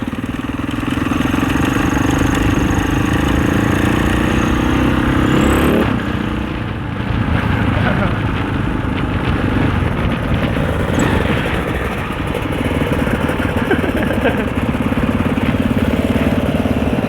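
A 650cc four-stroke dirt bike engine drones loudly and steadily during enduro trail riding, with a brief dip in revs near the middle before it pulls hard again, close and continuous with wind noise.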